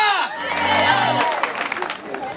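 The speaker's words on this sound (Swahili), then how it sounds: "Makofi kwa familia." Family members at a 25th wedding anniversary celebration receive a burst of applause, cheering and whoops from a close crowd, loud and sustained with a lively babble of voices mixed in.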